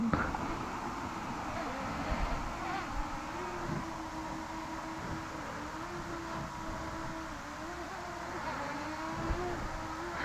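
A DJI Mini 2 drone flies outdoors, giving a thin, buzzing whine that wavers slightly in pitch as it hovers and moves at moderate distance, fairly quiet and continuous.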